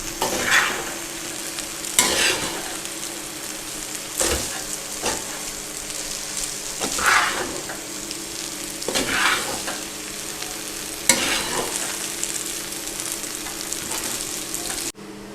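Chicken chow mein is stirred and tossed in a hot pan, a continuous sizzle of frying noodles broken by repeated scraping strokes and clinks of the utensil against the metal, close and fairly loud.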